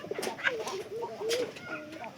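A pigeon, recovering from an illness, coos close by in a few low, rolling throaty calls with short pauses between them.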